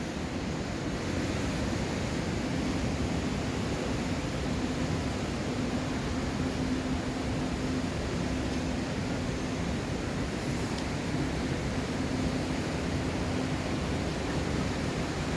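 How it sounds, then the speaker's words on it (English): Water pours down at the Edessa waterfalls on a hillside in Greece, a dense, continuous roaring rush that stays steady and loud throughout with no voices. "you keep hearing the water coming down, as you probably can hear it on the video as well."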